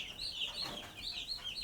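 Week-old chicks cheep and peep continuously in a brooder, a soft, close chorus of high chirps with no talking.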